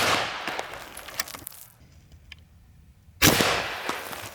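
A Seneca Recluse 2 Tactical .357 big-bore PCP air rifle fires a single sharp, loud shot that rings out after a quieter stretch, with a noisy outdoor background before it.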